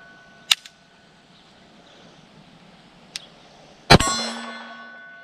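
Beretta 96 G Elite .40 S&W pistol fired at a target outdoors, two sharp shots about three seconds apart, the second followed by a ringing metallic clang from a steel target, with a fainter click between them.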